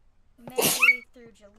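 A person sneezes once, a loud close burst breaking into ongoing speech during a gaming livestream, with talking resuming right after.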